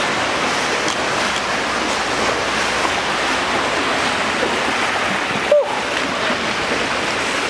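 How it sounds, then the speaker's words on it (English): Constant sloshing and rushing water fills an echoing tunnel, with splashing that sounds like steps wading through water above ankle height. "We're walking through so much water, it's like above ankle height."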